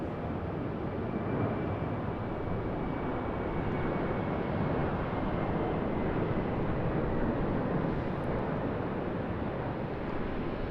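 A Qantas Boeing 737-800 takes off from runway 34 right at Sydney Airport, its engines a steady, loud broadband roar that holds evenly throughout with no talk.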